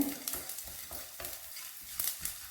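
Spices roast in a pan for a spicy powder and are stirred repeatedly, giving faint, close scraping strokes in an irregular rhythm over a low sizzle.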